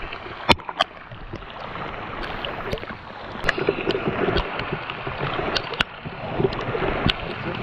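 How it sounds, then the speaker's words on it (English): Rain pattering steadily on the open water of Lake Superior during a kayak expedition, a dense hiss with scattered sharper taps and drops close by, no voices. "Another batch of rain."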